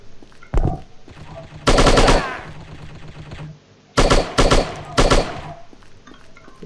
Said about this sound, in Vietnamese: Chúng bắn rất gần ở đây.